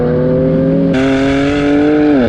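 A BMW F80 M3 Competition revving hard from the cabin with the windows down, a loud droning exhaust note climbing through a gear change and then easing off, close and alone.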